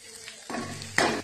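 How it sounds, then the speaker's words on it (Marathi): Cluster beans and potato sizzle on an iron griddle as peanut powder is stirred through them, with a quieter scraping stretch building into loud frying, followed by a sharp clink of the spatula and a continued hiss. "शेंगदाण्याचं कूट घालून परतवून आपण लगेचच गॅस बंद करून घेतोय."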